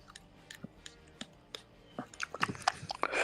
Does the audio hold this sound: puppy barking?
no